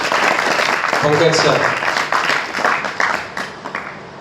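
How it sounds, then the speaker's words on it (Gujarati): An audience at a motivational gathering breaks into applause to welcome a guest speaker, clapping rising under a brief spoken introduction and then thinning out toward the end. "તો જોરદાર તાળીઓથી વધાવીશું"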